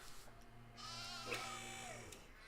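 A single sheep bleats in the Nancy Drew: Haunting of Castle Malloy video game, a clear, wavering cry heard up close, faint overall, and ending after about two seconds.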